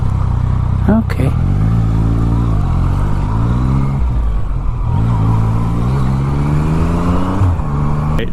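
Yamaha FZ09 motorcycle engine revving hard and steady during a wheelie, loud and close, with pitch rising and falling across several throttle swells; a voice speaks briefly over the engine.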